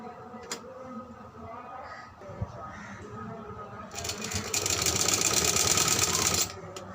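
A sewing machine stitches baby frock fabric, starting as a faint intermittent whir and then running in a loud, steady rapid buzz for a couple of seconds before stopping abruptly, with quiet background sound.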